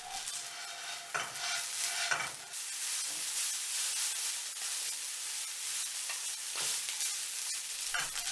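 Noodles crisping in a pan of vegetable and sesame oil over low heat give a continuous close sizzle, broken by a few clattering flips and stirs.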